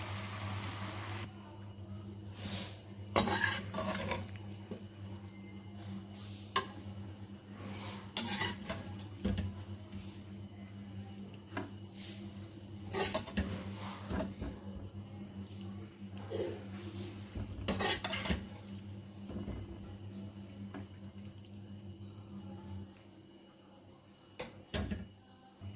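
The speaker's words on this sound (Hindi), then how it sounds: "अब मैंने डिश आउट करके आपको दिखाती हूँ और चूल्हा बंद कर देती हूँ।" Chicken macaroni is served out of the cooking pot into a dish, with intermittent clanks of a spoon against metal and scraping of cookware over a low background hum, no voices.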